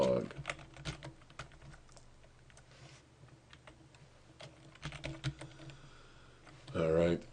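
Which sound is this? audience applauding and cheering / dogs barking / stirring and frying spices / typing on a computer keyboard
typing on a computer keyboard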